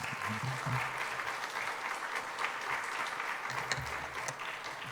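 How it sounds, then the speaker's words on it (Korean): A small congregation at a midweek church service gives a pastor a warm round of applause; the clapping is faint and even, carrying on for a few seconds without voices. "이 시간 우리 김이나 목사님 따뜻한 박수로 맞이하겠습니다"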